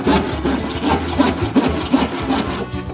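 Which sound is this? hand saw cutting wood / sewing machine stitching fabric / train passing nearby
hand saw cutting wood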